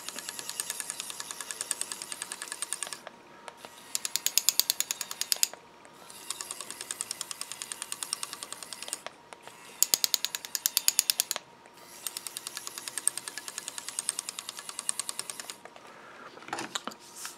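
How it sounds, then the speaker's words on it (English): A small N20 gear motor turns bevel gears inside a single-motor robot, giving a close, continuous whirring and clicking mechanical buzz that runs in several bursts with brief pauses between them. "We have an N20 motor driving this bevel gear, driving these two bevel gears."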